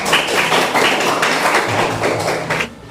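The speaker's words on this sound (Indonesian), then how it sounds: "Tepuk tangan dulu." An audience of classmates gives a round of steady, close applause in a classroom after a group presentation, continuous for nearly three seconds before tapering off at the end.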